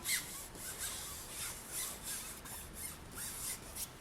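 Burnishing tool rubbing over a layer of polymer clay, a soft close-up scraping rasp in repeated short strokes at a steady rhythm, with no talking.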